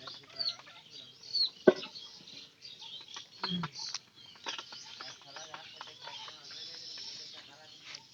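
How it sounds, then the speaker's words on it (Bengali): A laying hen clucks in short, scattered, high-pitched bursts close by, uneven and intermittent, with some background noise. "এই মুরগি ডিম পারে"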